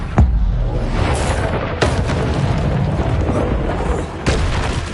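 Spell casting in Hogwarts Legacy, including the Expelliarmus disarming charm: several sharp, booming bursts over a dense, roaring combat background, loud and close.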